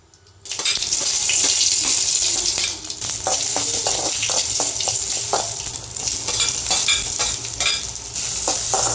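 Spices sautéing in ghee in a pan give a loud, steady sizzle across the whole stretch after a sudden start, with stirring scrapes and no voices.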